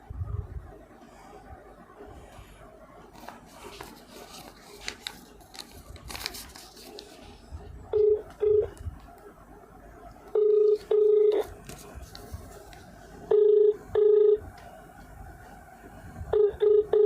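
A telephone call being placed: faint handling noise and tapping, then a series of loud, close dial or ringback tones in short paired bursts repeating at intervals.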